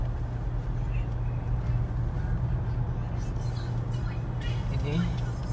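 A Mitsubishi Pajero Sport Dakar cruises along the Pasteur toll road, its steady road and engine rumble filling the cabin while people talk over it.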